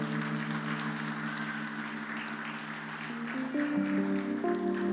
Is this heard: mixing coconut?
no